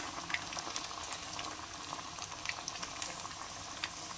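Banana pieces coated in brown sugar frying in hot oil for bananacue: a faint, steady bubbling sizzle with scattered small pops, no one talking.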